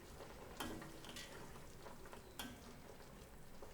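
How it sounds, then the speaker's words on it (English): A small batch of jam with butter is stirred in a pot over medium heat, soft scraping strokes and a faint bubbling sizzle, quiet and close, with a couple of brighter clinks of the spoon. "We've reduced the heat to medium or so, and now we're stirring and stirring."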